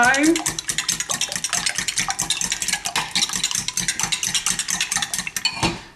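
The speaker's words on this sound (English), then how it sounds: "I'm going to add 5 eggs, and then I'm going to mix these round with a fork." A fork beats five eggs in a bowl with a fast, steady run of clicking and tapping strokes, loud and close, lasting several seconds.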